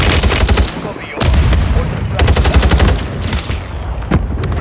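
Sniper and other gunfire in Call of Duty Warzone on Rebirth Island: loud, dense bursts of rapid shots with heavy booms, broken by brief gaps.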